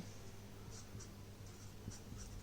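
A pen scratching across paper while a geometry proof is written out, soft and close, with faint quick strokes and light taps in an otherwise quiet room.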